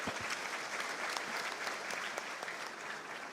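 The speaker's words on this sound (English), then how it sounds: "Could you all please give him another round of applause?" An audience at a Nigerian Society of Engineers conference in Ibadan applauds steadily, dense clapping from a large crowd that holds at an even level throughout.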